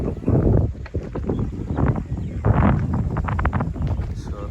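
Wind at night on a mountain ridge at Mt. Anahawon in Valencia, Bukidnon, buffeting the microphone as a steady, loud rumbling roar with gusty swells throughout.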